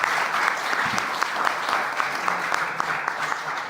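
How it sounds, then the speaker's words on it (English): Steady applause from a conference audience for a panel of speakers at a sustainability event, dense and even with sharper individual claps throughout, with no talk over it. "with a big round of applause for our panelists"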